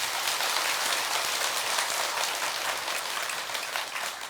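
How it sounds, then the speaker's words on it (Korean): An audience at a Buddhist dharma talk applauds, a dense, even patter of many hands clapping together, steady and close, with no voices over it. "박수 한번 쳐주십시오"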